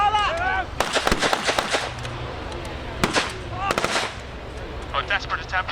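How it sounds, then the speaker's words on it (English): Gunfire at a WWII military re-enactment battle at a steam rally, with sharp close bursts of shots in clusters between quieter stretches, under loud background crowd noise and some voices. "firing can be carried out at near distance"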